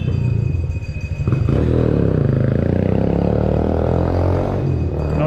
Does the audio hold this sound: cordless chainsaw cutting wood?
no